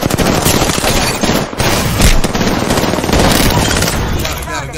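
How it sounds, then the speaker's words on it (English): Rapid automatic gunfire from the battle royale game Apex Legends, loud, dense bursts running almost continuously with one brief break, a voice talking over it at times. "I'm getting shot at."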